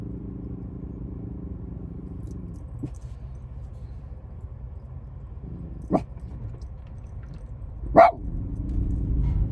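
A dog lets out two short, sharp barks a couple of seconds apart over a steady low engine rumble.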